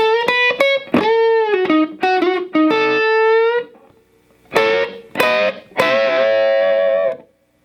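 Distorted electric guitar plays two licks from the solo of a song: a run of quick notes, a brief pause, then sustained bends, loud and close.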